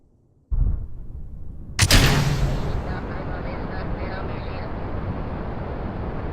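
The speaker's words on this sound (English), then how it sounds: "That's gonna explode." A rocket exploding in Kerbal Space Program, a sudden sharp blast that follows a rising engine roar and decays into a sustained loud rushing rumble, with a voice faintly talking beneath.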